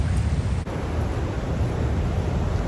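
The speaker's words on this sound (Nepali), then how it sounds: "यसरी उर्लिरहेको छ बागमती" The Bagmati River, swollen by heavy rain in Kathmandu and seen from beneath the Thapathali bridge, roars in flood: a loud, unbroken rushing wash of water with a heavy low rumble, steady throughout, with no voices.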